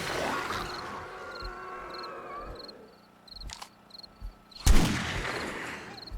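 A .44 Magnum revolver firing in 7 Days to Die: a few isolated, punchy shots spaced apart, the loudest near the end, over a faint chirping ambience.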